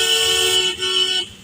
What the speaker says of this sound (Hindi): अभी हारन दो यहाँ पे